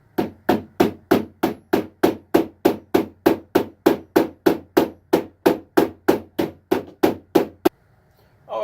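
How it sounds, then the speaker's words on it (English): Rapid, regular hammer taps on metal T-nuts, about twenty-two evenly spaced strikes at close range, then a sudden stop into near silence. "all that's left is to tap these T-nuts into place"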